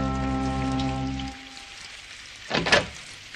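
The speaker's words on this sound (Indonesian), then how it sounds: "Apa? Hujan-hujan begini?" Rain in a Doraemon cartoon: a brief burst of rain spattering on a surface, rising and fading quickly after a held musical tone ends, loud and close with no talk.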